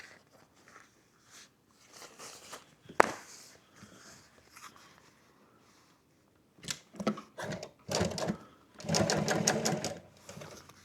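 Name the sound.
sewing machine sewing on a skirt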